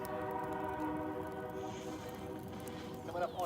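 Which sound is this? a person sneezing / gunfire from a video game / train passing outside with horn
train passing outside with horn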